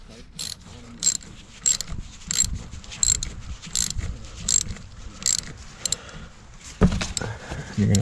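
A ratchet tightens the battery terminal on a Dodge Grand Caravan in a string of short clicking bursts with pauses between them, close and fairly loud, while someone talks now and then.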